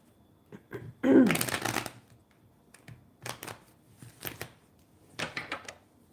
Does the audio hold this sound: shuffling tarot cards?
yes